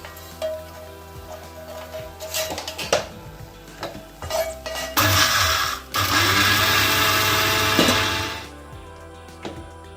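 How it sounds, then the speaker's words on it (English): Rock salt is roasted and stirred in a pan, making gritty scraping and clinking spoon strokes, then a sustained loud rush of granular rattling near the end. "So for everything we'll have to start with roasting salt."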